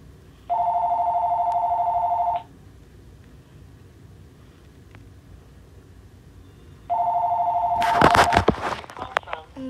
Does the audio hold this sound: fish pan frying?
no